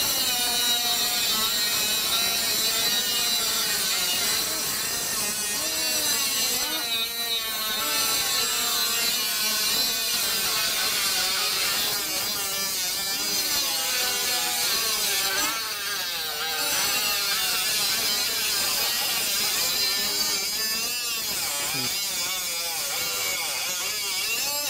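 Milwaukee M12 and Ryobi 3-inch cut-off saws spinning at high speed and cutting, a continuous loud whining grind with shifting pitch as the blades bite into material, heard close up without talk.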